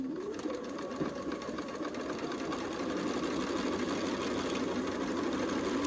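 A sewing machine runs steadily, stitching quilt seams for a Stars & Snowballs quilt block, its needle drone continuous and close with a faint rise in intensity partway through, no voices over it.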